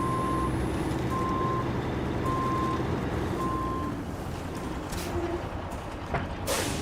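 Steady reversing beeps from a truck in the video game SnowRunner, four evenly spaced tones over a rumbling engine drone, followed by mechanical creaks and a hiss of air brakes.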